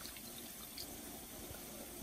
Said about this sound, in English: At this point, I am adding some water to this.